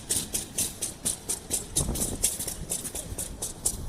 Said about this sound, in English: stationary engines